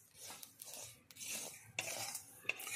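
Coriander seeds being stirred as they roast in a pan for homemade garam masala, a dry scraping rattle with repeated stirring strokes and brief louder scrapes, fairly close and without talk.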